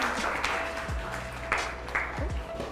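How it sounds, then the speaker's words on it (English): Audience applause for a chef at a cooking show event, a moderate patter of clapping running under a host's voice. "Let's have a round of applause."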